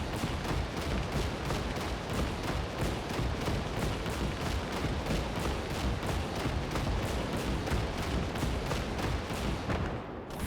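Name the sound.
tank gunfire in video game Gates of Hell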